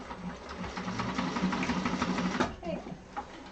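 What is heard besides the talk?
sewing machine stitching a handbag lining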